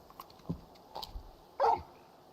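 Torgal, a large wolf-like dog companion in the video game Final Fantasy XVI, gives a few short barks and yips, with a louder close bark near the end over quiet background.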